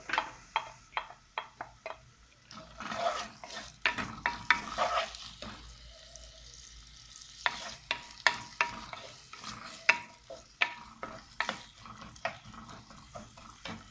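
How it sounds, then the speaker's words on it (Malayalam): Onions frying in a pan with cumin, garlic and ginger for palak paneer: a steady sizzle, broken by a run of sharp, rhythmic scraping knocks as a spoon stirs the pan, close and fairly loud throughout. "നമ്മൾ അരിഞ്ഞ് വെച്ച സവാള അങ്ങോട്ട് ഇട്ട് കൊടുക്കും"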